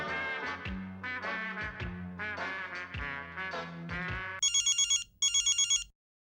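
A telephone plays a bright melodic ringtone for a few seconds, then gives two short bursts of rapid electronic ringing before falling silent.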